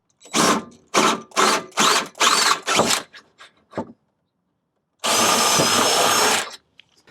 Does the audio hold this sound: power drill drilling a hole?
yes